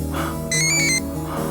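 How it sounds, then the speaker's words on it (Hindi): A mobile phone rings nearby in a street with a short burst of bright electronic tones over a steady background hum, with no talking. "यहाँ किसी फोन की आवाज आ रही है।"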